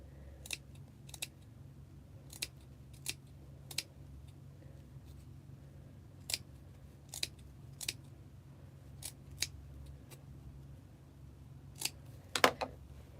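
Scissors snip through fur to cut out ear fluffs for a costume mask, with quiet, irregularly spaced crisp clicks over a low steady background hum, no voices.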